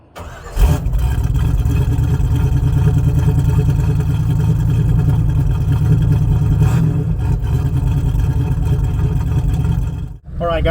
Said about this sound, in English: So it revs up nice and smooth